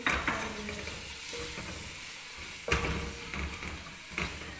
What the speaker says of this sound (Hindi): ये सब डाल के अच्छी तरह से फ्राई कर लेंगे